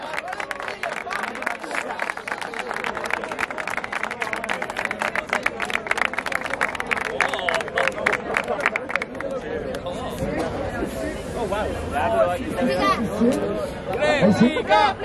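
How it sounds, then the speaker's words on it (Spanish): Crowd at a rap battle semifinal in a duo league applauds loudly, dense clapping and cheering filling the first half, then fading into excited crowd chatter and shouting voices. "¡Fuerte aplauso nuevamente por Comando Batallón Cabro!"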